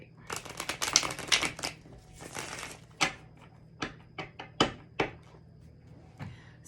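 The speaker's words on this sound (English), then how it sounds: "now I'm going to shuffle." A tarot card deck is shuffled by hand in quick riffling bursts, followed by several separate soft taps and slaps of cards, close and fairly quiet.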